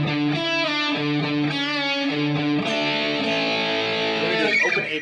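Distorted electric guitar riff built on power chords and double stops on the 4th and 3rd strings, a steady loud run of repeated chord stabs that fills the whole stretch on its own with no talking.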